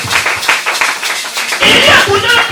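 A church congregation claps rhythmically and acclaims Jesus, loud close hand claps under singing and shouted voices that swell into a fuller cheer midway.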